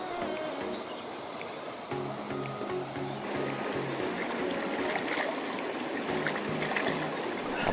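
A forest stream in Maredumilli Forest near Gudisa hill station flows with a steady rushing, babbling wash of water, close and continuous throughout, with faint voices in the background.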